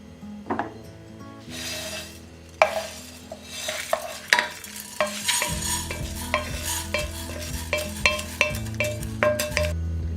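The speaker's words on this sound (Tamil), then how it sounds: "மிளகாவையும் நல்லா இந்த மாதிரி ப்ரௌன் கலர் வர வரைக்கும் நல்லா வறுத்துட்டு" Dried red chillies and coriander seeds dry-roasting in a pan for chutney, with repeated scraping stir strokes and light rattling of seeds against the metal, close and fairly loud; a faint background hum runs underneath and no one speaks.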